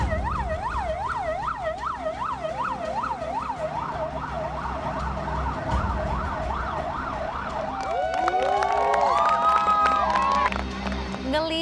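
A fire truck siren wails in a steady rising-and-falling cycle, then shifts to a faster, more urgent pattern as it grows louder and closer.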